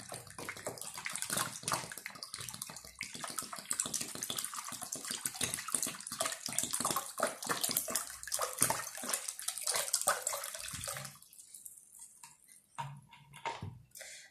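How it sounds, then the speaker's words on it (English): Water poured repeatedly from a milkmaid tin into a 1 liter bottle, a close, splashy trickling gurgle for about eleven seconds before stopping, followed by a few faint drips and clinks. "I have to pour water 4 times to fill this 1 liter water bottle"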